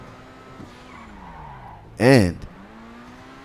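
A heavy S80RR race car in a video game slides into a short, loud tire squeal lasting under half a second, rising out of a quieter engine drone, with someone talking over it.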